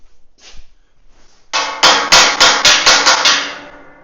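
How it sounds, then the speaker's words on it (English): A metal hammer pounds trailer frame parts on a 3500 lb trailer build: after a few faint taps, a run of about eight loud, evenly spaced ringing metallic strikes follows close up, alone. "Let me grab my metal hammer."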